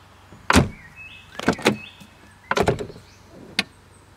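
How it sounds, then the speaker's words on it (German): A 2005 Mercedes W220 S500 4MATIC door is pushed lightly and drawn shut by its automatic soft-close mechanism, giving a few distinct close thuds and clicks with a brief motor whir between them, close and clear in a quiet setting. "Dann hat das Fahrzeug natürlich noch eine automatische Tür-Zuziehhilfe."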